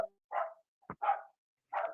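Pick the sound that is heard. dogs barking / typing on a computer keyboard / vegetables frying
dogs barking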